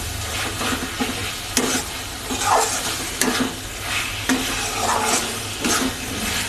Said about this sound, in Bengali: পেস্টটা দিয়ে কিন্তু নাড়তে হবে, যেহেতু বাদাম আছে